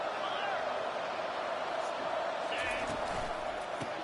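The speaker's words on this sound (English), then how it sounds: "here comes the noise. This crowd is trying to inspire this defense to make a big red zone stop." A college football stadium crowd roars in a steady, distant-sounding wash of noise during a red zone defensive stand, with a commentator talking over it.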